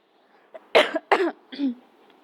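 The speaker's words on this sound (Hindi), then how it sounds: "जुकाम के कारण मुझे खांसी आ रही है बार बार" A woman with a cold coughs a few times in quick succession, close and fairly loud, each cough rough and breathy against a quiet room.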